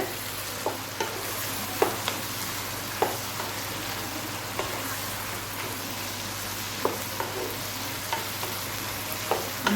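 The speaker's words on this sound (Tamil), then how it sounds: "நல்லா வதங்கி வருது" Chillies for kara chutney saute in oil in a pan, a dense continuous crackling sizzle with light regular ticks and pops throughout, close and alone with no voices.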